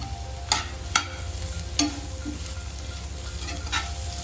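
Vegetables and curry leaves fry for veg noodles, a steady low sizzle broken by a few sharp utensil scrapes and stirring clinks, close and fairly quiet with no talking.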